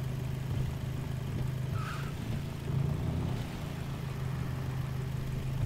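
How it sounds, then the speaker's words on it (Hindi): A Honda Civic Type-R engine in NFS Heat hums at a steady idle with a slight rev swell midway, moderately loud and close, with no talk. "तो गाड़ी को थोड़ी रेस दे के चेक करते हैं।"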